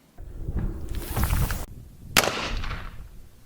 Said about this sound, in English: the second shot that was fired sounds like a flintlock rifle.